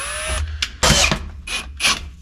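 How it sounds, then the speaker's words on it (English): A power drill boring a hole with a large bit, heard in several short bursts of whirring and grinding separated by brief pauses, close up. "It might be my biggest drill bit."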